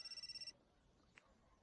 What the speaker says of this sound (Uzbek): Telefoning jiringlayapti.